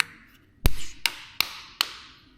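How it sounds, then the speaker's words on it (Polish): A cast aluminium carburettor intake stub for a Jawa moped is tapped with a heavy but springy tool to knock the core out, giving four sharp, ringing knocks at uneven intervals, close and clear with no talk. "Najlepiej tak sobie zrobić, puknąć, wtedy rdzeń spadnie na rękę."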